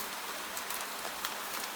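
Gentle rain falling beyond the shutters on a night in medieval Prague, a soft, even patter heard faintly and at a distance, steady and unbroken, with no voices.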